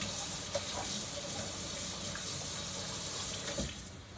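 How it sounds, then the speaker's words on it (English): Tap water runs steadily into a kitchen sink as a spatula is rinsed under it, a continuous soft gushing with a few small clinks, no talking. "I rinse off my spatula so I can continue to mix up my aromatics"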